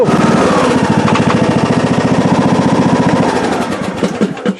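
A John Deere D110 lawn tractor engine runs close and loud with a rapid, steady, pulsing chug that fades out in the final second as it shuts down.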